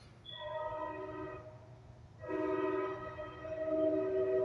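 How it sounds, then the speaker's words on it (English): A train sounds its horn in two long sustained blasts, the second one louder and nearer, over a low steady rumble with no talking. "There goes the train."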